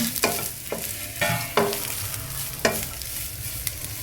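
Chopped cabbage and capsicum fry in a pan with a constant close sizzle, punctuated by about six distinct scraping stirs of a spoon against the pan, with no talking.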